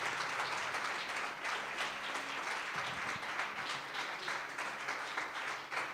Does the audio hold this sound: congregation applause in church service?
yes